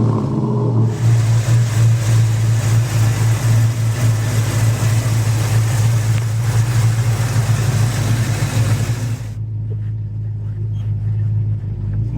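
A 1983 Chevy pickup's V8 with 3-inch Flowmaster exhaust rumbles loudly with a deep, throaty burble, holding steady for several seconds before dropping off to a quieter background.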